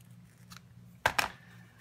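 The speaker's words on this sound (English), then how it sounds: "We'll give the bow a little trim right here" Scissors make two quick close snips through a ribbon bow on a card front, crisp and distinct over a quiet room hum.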